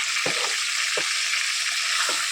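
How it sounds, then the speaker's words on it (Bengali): Potatoes fry in hot oil with a steady bright sizzle, and three short low knocks of a spatula stirring the pan break through the hiss. "আলুটা তেলের মধ্যে দেওয়া হয়েছে, নেড়ে ছেড়ে দেবো"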